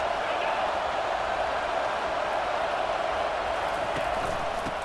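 Football stadium crowd at an Alabama versus Tulane game, a steady, dense roar of cheering that fills the whole stretch without breaks, loud and unbroken with no clear talk on top.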